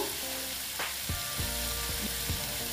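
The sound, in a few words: sizzling while sautéing ridge gourd in pan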